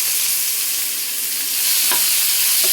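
Tomatoes and ground masala sautéing in hot oil for a spicy rooster curry, a steady, loud sizzle with a few faint stirring clicks near the end.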